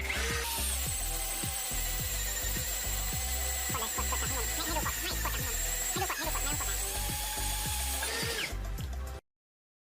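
A cordless drill whirs steadily and close for about nine seconds, with rhythmic ticking bursts as it bores a hole, then cuts off abruptly.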